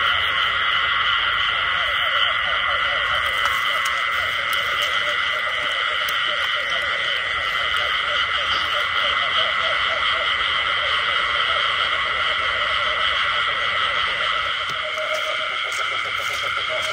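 A dense nighttime chorus of frogs croaking near a garden by an old jackfruit orchard, steady overlapping trilling calls throughout, loud and close with no talk.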